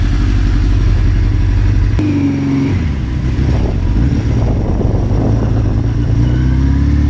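A 38-year-old Suzuki GS1100E motorcycle engine runs loud and close, a steady deep throb with a brief rev around the two-second mark before settling back into an even, continuous rumble.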